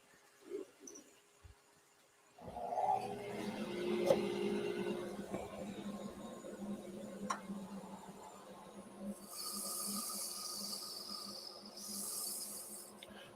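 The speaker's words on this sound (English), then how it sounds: "This is shape sanding, or turning with sandpaper." Steady abrasive rasping of 80 grit sandpaper against wood spinning on a lathe fills the clip after a brief quiet start, with a whirring motor hum underneath and occasional higher scratchy bursts.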